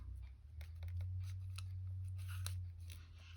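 Scissors snip paper for an altered book with coffee filters, giving a close, irregular run of small crunchy cuts over a steady low hum, with no talking.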